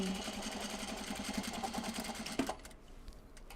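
A sewing machine runs steadily in a close, humming mechanical whir for about two and a half seconds, then stops sharply with a small clunk, leaving quiet room noise.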